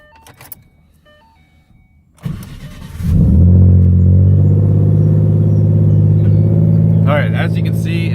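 Quiet shuffling and a click, then a 2011 Mustang V6 with twin turbos cranks and fires, settling into a loud, steady idle close by, with a brief whine near the end.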